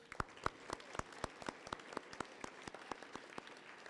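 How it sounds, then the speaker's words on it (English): Audience at a seventh-grade school awards assembly gives a round of applause, quiet but distinct, with a rhythmic stream of crisp nearby claps over light, scattered clapping across the room. "So let's give them a round of applause."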